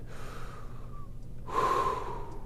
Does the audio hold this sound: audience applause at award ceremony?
no